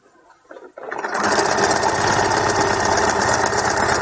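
A sewing machine stitches a leotard seam, starting after a brief handling noise and then running at a steady, fast, continuous hum close by.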